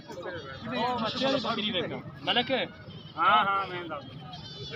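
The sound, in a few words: goat bleating at a goat market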